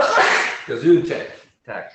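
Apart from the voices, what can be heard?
sneeze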